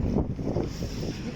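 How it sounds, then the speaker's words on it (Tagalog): Wind gusts roar across the microphone in a brief, low, rumbling buffet. "Mahangin."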